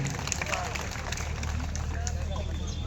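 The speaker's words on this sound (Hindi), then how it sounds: "जनता जरा दोनों के सम्मान में ताली बजा दीजिए" Spectators applaud at an outdoor dangal wrestling match, a dense wash of crowd clapping mixed with hubbub and chatter that runs without a break for the whole span.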